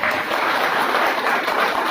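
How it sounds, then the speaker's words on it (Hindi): An audience at a business orientation program in Agartala, Tripura, gives a loud welcoming applause: a dense, steady wash of clapping from many hands, close and unbroken throughout. "आप ही के शहर अगरतला में आप ही का जबरदस्त तालियों से स्वागत करता हूं"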